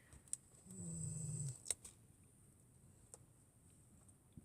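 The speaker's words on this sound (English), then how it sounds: "And of course the dog, as always, snoring behind me." A dog's low, soft rumbling snore drawn out for about a second, faint and close, followed by a few scattered ticks and knocks in an otherwise quiet room.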